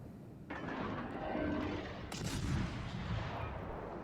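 Naval gunfire from the destroyer HMS Gallant in World of Warships: Legends, heavy booming salvos with a sharp onset near the start and another around the middle, followed by rumbling decay and continuous battle noise.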